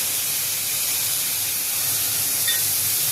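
Water-mixed spice paste poured onto frying taro in a pan, setting off a loud, even, hissing sizzle that holds steady from start to end with no talk.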